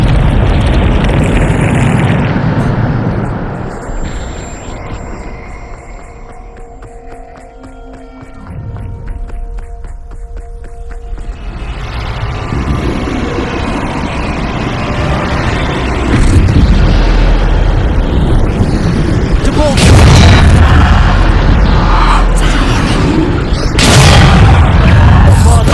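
Bombarda spell explosions in the Hogwarts Legacy video game, a run of heavy booms and bursts going off loud and close, with rumbling low blasts and sharp pops across the scene.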